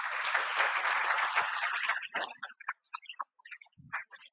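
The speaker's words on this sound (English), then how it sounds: "let's give a good round of applause to sir once again." Audience applause for a speaker at an India in Space talk, dense clapping for about two seconds that then breaks into scattered, sparse claps trailing off.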